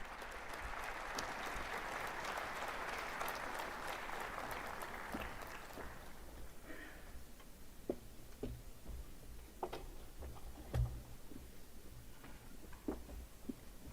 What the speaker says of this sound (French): Sous vos applaudissements, Mesdames et Messieurs, Monsieur le Président Évariste Ndayishimiye